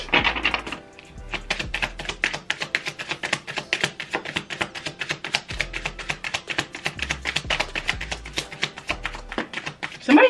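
Rapid, dense papery clicks and flicks repeat for about ten seconds as tarot cards are shuffled close by, with a few low thuds underneath.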